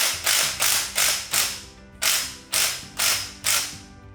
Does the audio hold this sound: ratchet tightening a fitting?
yes